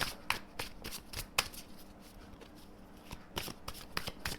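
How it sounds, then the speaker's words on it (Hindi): Self-care oracle cards are shuffled by hand, giving a quiet run of crisp riffling flutters and soft taps in irregular bursts, close and alone. "let's pick some cards from self care Oracle cards"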